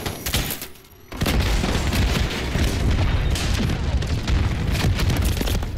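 Repeated grenade launcher explosions in Modern Warfare, loud booming blasts packed close together after a brief lull, with crackling gunfire in between.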